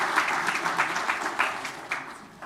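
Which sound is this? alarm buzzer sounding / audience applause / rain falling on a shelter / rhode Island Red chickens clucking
audience applause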